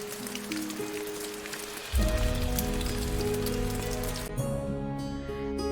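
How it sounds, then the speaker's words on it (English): Steady light rain drizzling and pattering on surfaces, a continuous soft hiss of drops with a low tonal hum underneath rising slightly in level midway. "It was drizzling."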